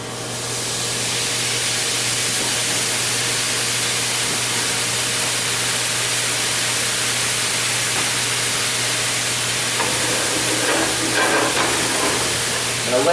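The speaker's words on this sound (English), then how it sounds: "I'm going to deglaze this with that nice red wine." Red wine hits a hot pan of seared duck breast, giving a loud, steady hissing sizzle that holds for many seconds with a low hum beneath and faint crackles near the end.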